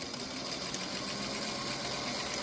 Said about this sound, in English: I just sew right into where the line is and start from there